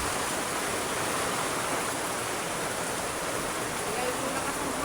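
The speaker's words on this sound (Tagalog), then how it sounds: "Malakas kasi ang hangin, guys." Strong wind blows outdoors during a rainy spell, a steady, even rushing roar with no breaks or voices.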